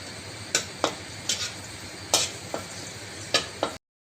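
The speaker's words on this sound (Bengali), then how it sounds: "এতে আমি তেলের মধ্যে তেজপাতা, শুকনো লঙ্কা দিলাম" Bay leaf and dried chili fry in hot oil, giving a faint continuous sizzle with a handful of sharp clinks and scrapes of a utensil against the pan.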